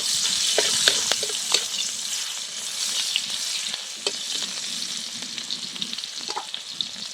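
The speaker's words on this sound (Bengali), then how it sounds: "পেঁয়াজটা আমি হালকা করে ভেজে নেব।" Onions sizzle steadily in hot oil, a continuous frying hiss with occasional scraping of a spoon stirring the pan.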